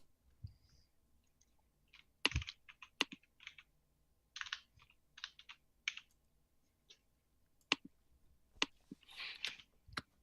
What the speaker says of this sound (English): Also, this keyboard is distracting me.